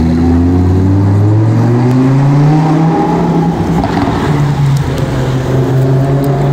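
A Ferrari F40 accelerates hard nearby, its engine note rising loudly through the gears with a sharp upward sweep and continuous roar.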